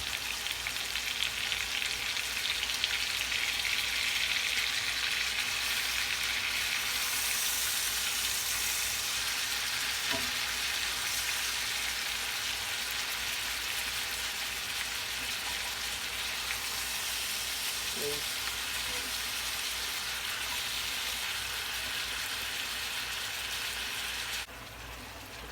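Filet mignon steaks searing in a hot pan with butter, a steady, dense sizzle and crackle that holds at an even level for the whole stretch, with no talking.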